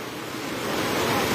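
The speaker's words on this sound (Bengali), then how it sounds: "পানির শব্দ আপনারা তো উনতে পাররা অবশ্যই" Floodwater flowing in Hamarkona, Sylhet, a continuous rushing wash that swells slightly louder toward the end, heard alone without talk.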